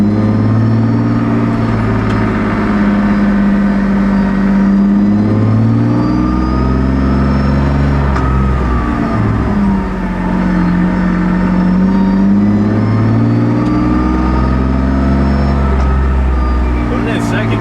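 A BMW E36 Compact being driven, its engine droning loud and close from inside the cabin, pitch rising and falling through several acceleration pulls as it moves through the gears.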